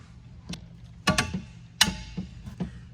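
A 5/32 Allen wrench turns a bolt into an aluminum pontoon bimini fitting, giving a handful of sharp, close metallic clicks and taps spaced irregularly over quiet background.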